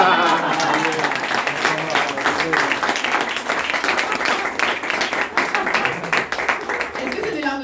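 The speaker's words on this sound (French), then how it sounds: "Tu peux applaudir" A comedy club audience applauds a stand-up comedian, with sustained, fairly loud clapping and cheering that stays steady for several seconds under a talking voice.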